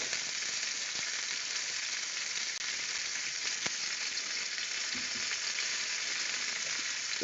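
Potatoes fry in a pan and get stirred, giving a steady soft sizzle with a few faint scrapes and taps of a utensil, close and quiet, with no voices.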